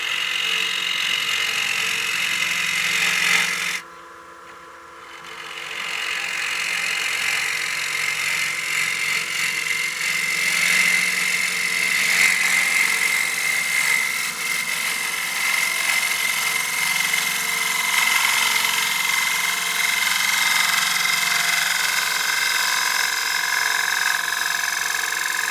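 A wood lathe turns a bowl while a Red Dragon carbide cutter shaves it, making a continuous high hissing cut with a steady low motor hum and a brief break near the start, with no talking.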